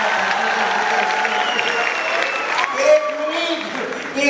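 An audience of students claps at a college comedy show in Pusad. The applause is loud and sustained, and voices carry over it.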